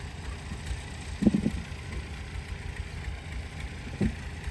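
A tractor working at a potato harvest idles with a low, faint, steady rumble, broken by two brief mechanical knocks, and no voices are heard.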